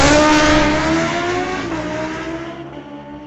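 A Kawasaki ZX10R and a 2018 Ducati launch in a street legal drag race at Mission Raceway Park, a loud roaring engine note that fades as the bikes pull away down the track.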